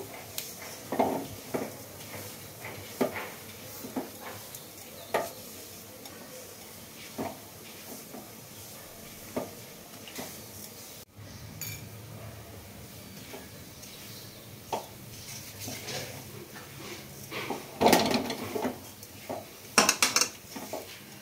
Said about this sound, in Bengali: সুজিটা প্রায় ব্রাউন হয়ে ভাজা হয়ে গেছে।